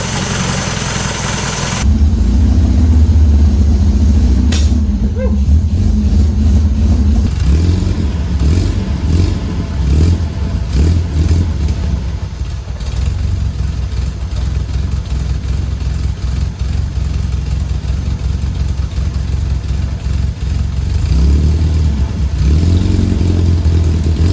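An MGB's carbureted engine idles steadily after sitting unused for ten years, a loud, even low rumble that holds from start to finish, with a brief blip of revving early on.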